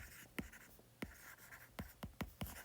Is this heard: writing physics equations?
yes